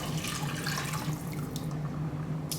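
Water runs steadily from a tap or jug into a cooking pot, a continuous close splashing rush at moderate level for a few seconds with no talking.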